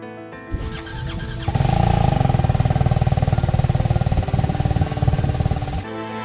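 A motorcycle engine starts up and idles loudly nearby with a fast, steady throbbing rhythm before cutting off, out among desert sand dunes.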